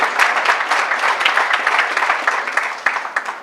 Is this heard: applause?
yes